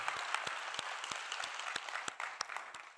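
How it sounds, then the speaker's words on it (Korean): A church congregation at a revival service applauds together, a steady wash of many hands clapping with distinct sharper claps throughout, fairly distant and moderate in level, with no talking over it. "오늘 이 시간 주님을 개인의 구주로 영접한 분들을 크게 한번 박수로 환영하시도록 하겠습니다."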